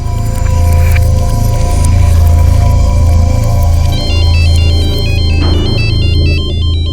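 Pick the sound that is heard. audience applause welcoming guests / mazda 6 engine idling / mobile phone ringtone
mobile phone ringtone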